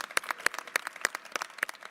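Scattered applause for Jason Perry and his team at an event announcing debate details: a modest crowd claps in loose, uneven bursts, fairly faint and with no talk over it.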